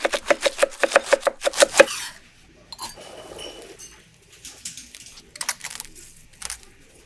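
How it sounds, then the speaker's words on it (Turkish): Rapid, rhythmic knife chops cut cabbage into thin strips on a board, about a dozen quick strokes, then sparser scattered taps and clatter with quiet gaps between. "Lahanayı ince şeritler halinde doğrayın."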